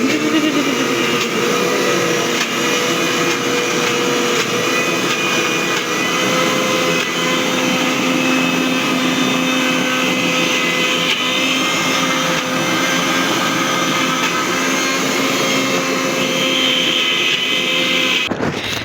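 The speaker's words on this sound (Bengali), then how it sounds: "এটার ভিতরে আমি এখন ব্লেন্ডার করব" A small electric blender runs in a home kitchen, its loud, steady whirring drone continuing without a break for the whole stretch, with no talking over it.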